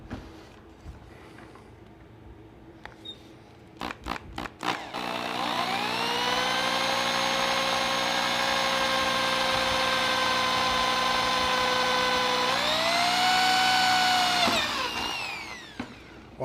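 A power drill bores a hole in wood at close range, with a few short trigger bursts first, then a loud steady whine for about ten seconds that rises in pitch as the bit breaks through and then stops.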